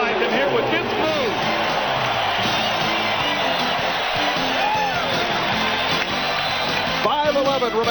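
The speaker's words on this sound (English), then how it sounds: "listen to this crowd" A basketball arena crowd roars after a Kobe Bryant dunk in a Lakers game, a loud, sustained wall of cheering and whooping that never lets up, heard through a broadcast with commentary layered over it.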